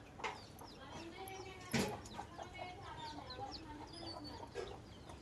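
Chickens clucking outdoors around a home, a backyard flock of several hens, with steady clucks and calls throughout and one louder burst near the middle, while a person speaks over them.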